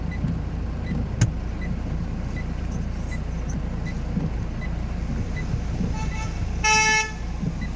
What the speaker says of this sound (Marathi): गाडी येते गाडी.